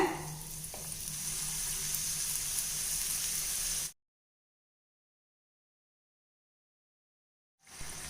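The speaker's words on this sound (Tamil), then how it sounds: "இப்போ நம்ம செஞ்சு வச்சுருக்க எல்லா சோமாஸையும் நான் இதே மாதிரி பொரிச்சிடுறேங்க." Somas frying in hot oil, a dense, continuous close sizzle and bubbling that cuts off abruptly midway, leaving silence before the frying sound returns briefly at the end.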